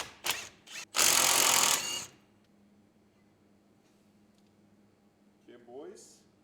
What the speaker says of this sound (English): now we're just gonna loosen up the 2 bolts here and get the calipers off